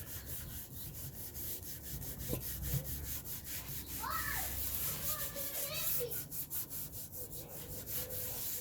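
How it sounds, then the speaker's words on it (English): A rag rubs acrylic paint into a wooden board, giving soft repeated scrubbing strokes in a steady back-and-forth rhythm, faint and close, with quiet speech and children's voices in the background. "So you just kind of rub it all in."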